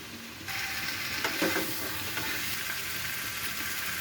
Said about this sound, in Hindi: देखंतु कोबीटा पूरा फ्राए हो जाइए